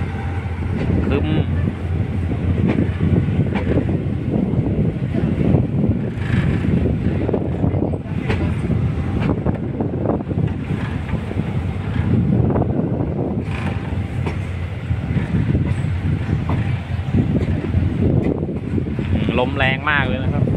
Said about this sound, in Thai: ลมแรงมากเลยนะครับ